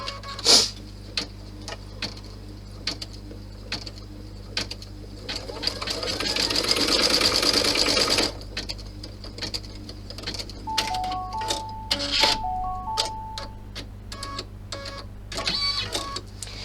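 An embroidery machine stitches out a key clutch design, its steady rapid mechanical ticking running close and continuous with a louder dense burst midway, and scattered clicks and brief beeps around it.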